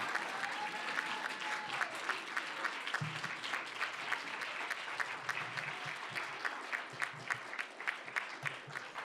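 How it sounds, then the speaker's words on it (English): Audience applause at a student life awards ceremony as an Advisor of the Year winner is announced, a sustained steady round of clapping with crisp individual claps, lasting throughout without voices. "You have to keep clapping till she's up here."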